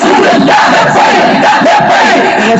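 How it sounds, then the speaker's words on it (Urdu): A large crowd at a religious conference chants a slogan together in a loud, continuous roar of many voices, rising and falling in rhythmic surges throughout. "پورے ہاتھ چکے نعرہ لانا"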